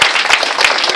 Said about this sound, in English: we can give them a round of applause anyway